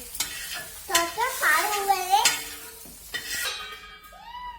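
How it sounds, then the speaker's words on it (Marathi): Onion, tomato and chillies being sautéed in a pan, with a spatula scraping and stirring in short bursts over a light sizzle, close and fairly loud. "कांदा टमाटर आणि मिरच्या ते सगळं व्यवस्थित परतलं"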